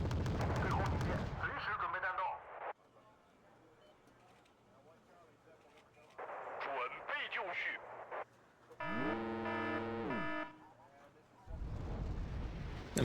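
M270 rocket artillery fires in a video game: loud booming salvos at the start and end, with a quieter stretch and a brief warbling electronic tone in between.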